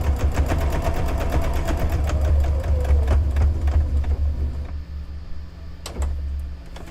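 A sewing machine stitches a quarter-inch seam in fabric, a fast rhythmic needle clatter over a low motor hum, close and loud, easing off and pausing toward the end.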